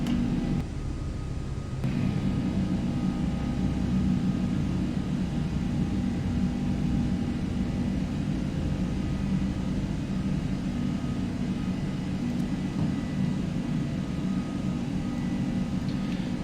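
Simulated Aerosoft Airbus A330 jet climbing out after takeoff in a flight simulator, a steady low cockpit engine rumble and hum that holds evenly throughout, with no talk over it.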